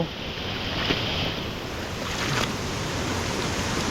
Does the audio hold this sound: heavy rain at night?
yes